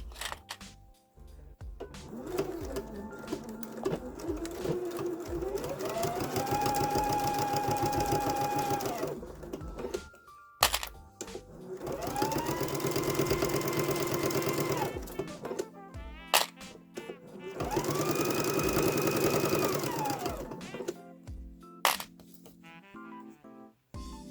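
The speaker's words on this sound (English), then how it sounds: "as I'm sewing along" A sewing machine stitching fabric in three sustained runs of whirring, each a few seconds long, with short pauses and small clicks between them, close by and without speech.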